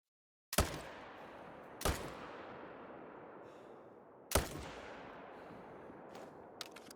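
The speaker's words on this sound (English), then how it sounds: "I have to take some quick shots here." Three loud rifle gunshots while hunting in the video game Call of the Wild, sharp cracks with long echoing tails across open terrain, spaced unevenly, followed by faint small clicks.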